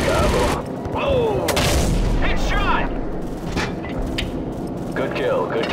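Heavy booming cannon fire and explosions from an AC-130 gunship in Call of Duty 4: Modern Warfare, loud repeated blasts with rumbling tails, while radio voices talk over the action.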